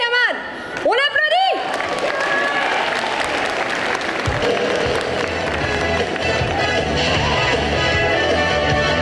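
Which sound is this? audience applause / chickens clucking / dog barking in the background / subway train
audience applause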